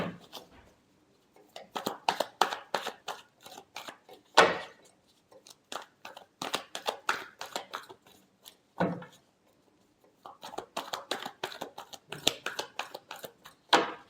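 Tarot cards being shuffled by hand, bursts of rapid crisp riffling and flicking clicks separated by short quiet pauses, close and fairly faint, with no talk.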